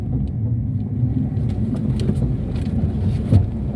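A Chevrolet car with a worn CV joint, turning left at low speed, its steady close engine and drivetrain rumble carrying faint irregular knocks and one louder clunk near the end.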